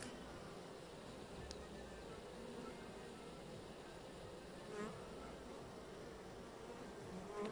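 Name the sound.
honey bees clustering outside a beehive in hot weather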